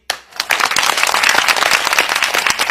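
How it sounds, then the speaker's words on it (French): Steady, dense applause from a concert crowd at a show erupts after a brief pause and continues at full strength, a thick wash of many hands clapping. "il applaudit"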